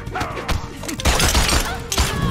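Gunfire and impact effects from a fighting video game, a burst of loud sharp shots and thuds that repeat in bursts over constant game action and commentary.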